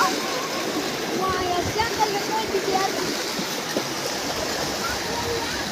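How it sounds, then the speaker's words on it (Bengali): Floodwater pours into the Maniknagar crossing as a steady, loud, rushing wash of water that runs throughout, broadband and continuous like a stream, with no speech. "মানিকনগর মোড়ের সামনে এইমাত্র জল ঢুকতে শুরু করেছে।"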